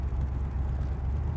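A 7.3-litre Godzilla V8 in a car held at half throttle, a deep, steady rumbling drone from inside the cabin, loud and unbroken without gear changes.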